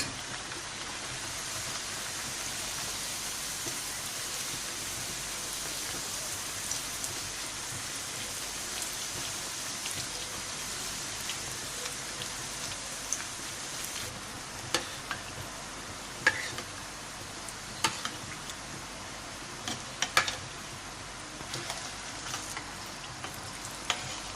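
Khajla pastry frying in hot ghee, a steady, fine crackling sizzle that fills the whole stretch, with occasional sharper pops and spits growing more frequent toward the end, and no voices.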